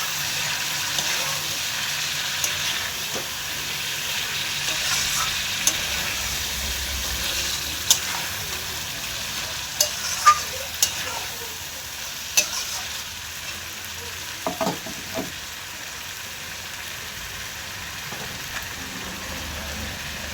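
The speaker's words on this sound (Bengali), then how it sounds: "এখন মাংসটা ভালো করে কষিয়ে নেবো" Meat frying with red chili in a pan gives a soft, steady sizzle, with occasional light scrapes and clinks from stirring, fairly quiet and without voices.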